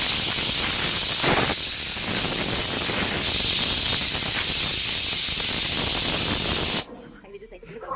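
Steam hisses loudly and continuously from a pressure cooker cooking mutton sambar, a strong unbroken spray-like rush lasting several seconds before cutting off abruptly, leaving a quiet room.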